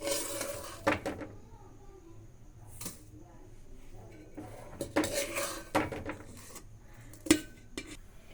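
Roasted corn powder for an old-style corn upma is moved into a vessel, with close metal utensils clinking and scraping against pots in scattered bursts over a quiet background.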